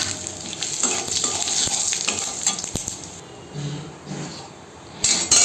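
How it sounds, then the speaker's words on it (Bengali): Whole cumin seeds and dried red chillies frying in mustard oil left from fish frying. A close, crackling sizzle is broken by stirring scrapes and a few sharp clicks, then dips quieter before it flares up again at the end. "মাঝি ভাজা একই তেলের মধ্যে আমি গোটা জিরে আর গোটা শুকনো লঙ্কা দিয়ে দেব।"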